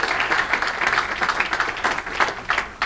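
A festival press-conference audience applauds warmly, giving a dense patter of many hands clapping with uneven swells, fairly close and continuous.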